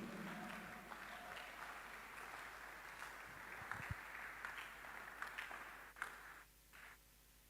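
Audience clapping at a gathering in Ghana, a faint, distant spread of applause with scattered sharper claps, tapering off near the end.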